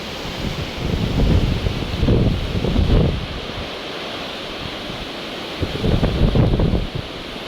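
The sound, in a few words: strong wind blowing through trees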